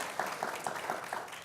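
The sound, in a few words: audience applause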